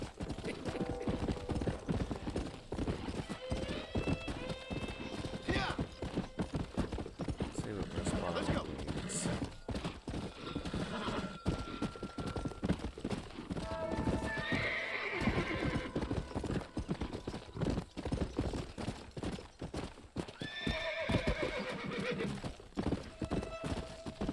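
Horses in the video game Red Dead Redemption, hooves clip-clopping steadily throughout with several neighs and whinnies, mixed with game sounds and some talk.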